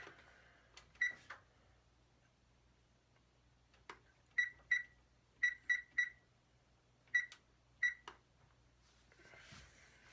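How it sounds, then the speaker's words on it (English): A kitchen timer being set gives a series of short, sharp electronic beeps, singly and in quick clusters of two or three, spaced irregularly over a quiet background as for baking a toast cup. "set that timer."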